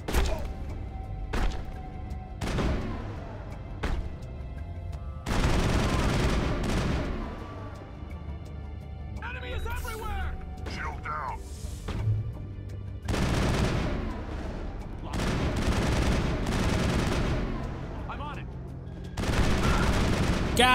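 Gunfire in the Mass Effect video game, with rapid bursts and heavy thuds repeating throughout a long firefight, loud and dense, with a voice talking over it.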